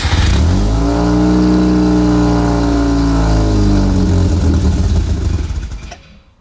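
A Mazda FC3S RX7 Turbo II, freshly revived, runs its rotary engine loud and close, revving up and down through several swells before shutting off abruptly in the final second.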